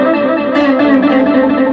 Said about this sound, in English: We can put a little echo on it